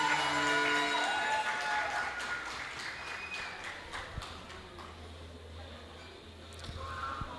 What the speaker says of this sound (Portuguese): Vamos aplaudir aí Jesus por essa supervisão de células